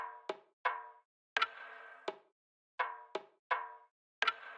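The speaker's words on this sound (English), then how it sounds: "these percussion loops." A dry percussion loop with no effects applied, built for an experimental hip-hop sample, plays sharp knocking hits with ringing tails in a repeating uneven rhythm, close and clear with nothing else under it.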